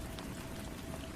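Steady ambient rain with a soft, even hiss of falling drops and no pauses or voices.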